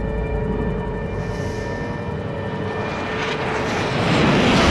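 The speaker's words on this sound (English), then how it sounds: "when this plane goes into the water" A plane engine roars steadily from the Metal Gear Solid V video game as the aircraft heads into the water, loud and continuous, swelling toward the end.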